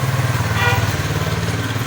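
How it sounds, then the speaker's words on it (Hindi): A motorcycle, the speaker's own bike, pulls out from behind on a street in Quetta, Pakistan. Its engine chugs in a steady, loud, low rhythm throughout. "ये देखिएगा पीछे से मोटरसाइकिल मेरी ही बाइक निकल रही, मेरा लेपर्ड निकल रहा है"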